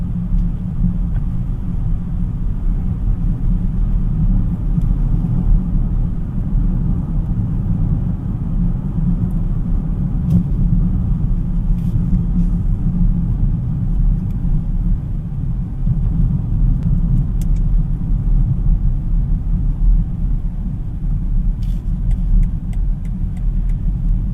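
A 2025 BMW X5 xDrive50e M Sport plug-in hybrid SUV on the move gives a steady low road and cabin rumble that holds constant throughout, with faint ticks and no voices.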